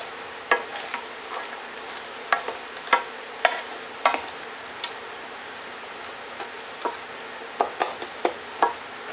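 A frozen mix of peppers and onion sizzles steadily in a hot pan, with a series of crisp crackles and pops scattered over the quiet, even frying hiss.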